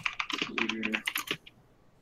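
Computer keyboard typing right beside the microphone: a close, loud burst of rapid clicking keystrokes for about a second and a half, then it stops.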